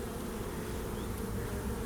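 Honeybees buzz in a dense, continuous hum during a beehive inspection, close and steady with no voices.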